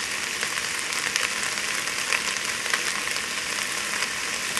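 Mixed vegetables for cannellini beans with beef sweat in a pan, giving off a steady, close sizzle and crackle with no pauses.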